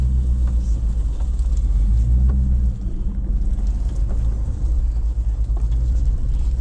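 A four-wheel-drive vehicle fitted with new 4.56 ring and pinion gears drives slowly along an off-road trail, giving a steady low engine and drivetrain rumble that stays close and even throughout.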